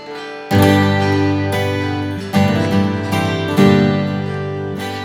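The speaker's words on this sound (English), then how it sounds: "I'm going to start by using the MIDI to play a contact sample library of a 12-string" Sampled 12-string guitar triggered over MIDI gives three big, shimmering strummed chords, each swelling in and sustaining richly before the next, full and close with no voices.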